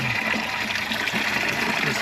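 Steady gush of coolant pouring from a 2004 Subaru Impreza into a bucket, a continuous splashing liquid stream heard close and fairly loud, with no talk.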